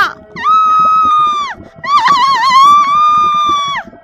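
A woman's long, piercing scream rises twice in a row, the second cry wavering and sustained, loud and close over a faint rhythmic background.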